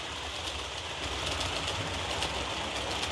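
A Fleischmann streamliner model train with flexing aerodynamic fairings runs at about half throttle, giving a steady, even mechanical whir and rail hum that carries throughout without pause.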